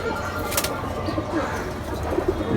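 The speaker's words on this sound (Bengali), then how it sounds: "এটা খুব বাংলাদেশের রেয়ার কবুতর" A rare Sialkuti Choa pigeon, nicknamed Blanket, kept by a Bangladeshi hobbyist breeder: soft, low, repeated cooing, close by, amid a busy background of other birds and faint chirps.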